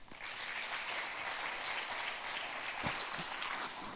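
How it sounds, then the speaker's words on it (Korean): An audience at a finance conference session claps steadily and evenly for about four seconds, a dense roomful of applause with no voices over it. "그럼 여러분 큰 박수로 환영해 주시기 바랍니다"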